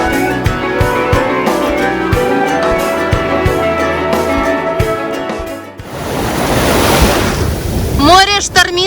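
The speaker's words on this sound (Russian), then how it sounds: "Море штормит сегодня." Stormy Black Sea waves break on a beach between Chernomorskoe and Sanzheyka with strong wind, a loud rushing, roaring surge that follows a stretch of music.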